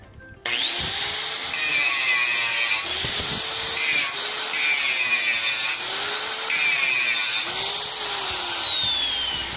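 An angle grinder held at an angle grinds a bevel on a steel flat bar, a loud continuous whine and rasp that dips and recovers in pitch every couple of seconds as pressure on the workpiece shifts.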